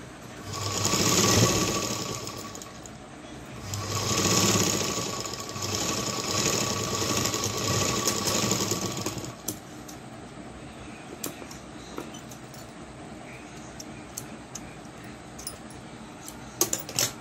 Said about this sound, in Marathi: फिटिंग करताना एक एकच शिलाई मारून दाखवते।